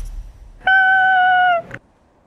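Over a player's microphone during an Apex Legends session, a cat gives one loud, drawn-out meow with a steady pitch, lasting under a second and heard close and alone against low background noise.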